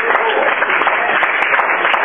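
A church congregation claps together in dense, steady applause, loud and close, with a voice briefly audible over the clapping.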